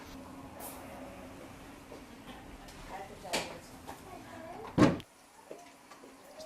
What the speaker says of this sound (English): The Japanese houses has this soft closing with these paper sliding doors.